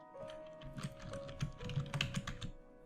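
Quiet, quick keystrokes on a computer keyboard come in short uneven bursts over a faint steady hum, with no voices.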